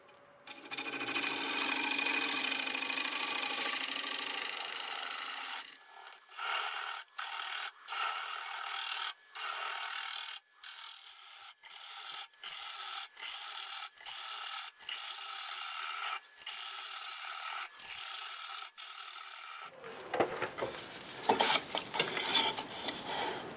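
Continuous rough scraping of a 1/2 inch bowl gouge cutting dry, hard box elder spinning on a lathe, broken by many brief regular pauses, then a harsher grinding burst at the end.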